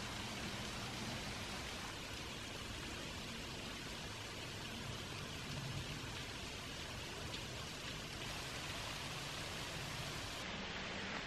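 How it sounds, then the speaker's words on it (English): Water falls steadily near caves in a wooded area, a continuous broadband rushing hiss like heavy rain that holds even for the whole stretch, with no voices. "I think it's just the water coming down there"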